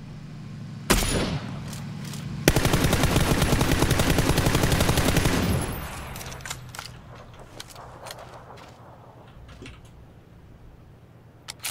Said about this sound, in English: that shot felt good, dude